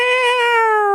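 A person's voice imitates a cat's meow, a single loud, sustained, high tonal cry held for about a second with no other sound.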